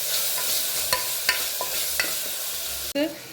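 Tomatoes sautéed in a pan with garlic give a steady close sizzle, broken by several sharp clinks of a spoon stirring against the pan and a brief scrape near the end.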